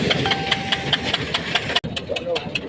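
A slightly faulty farm tractor engine runs close by with a steady, knocking idle rhythm, loud throughout, with a brief dropout near the end before it carries on.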